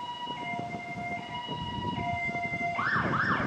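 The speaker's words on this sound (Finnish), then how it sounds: "Ja se on poliisiauto." A police car siren starts up at a street demonstration in a Tampere park, with a steady tone and then rapid warbling sweeps under a constant hum of crowd and traffic noise.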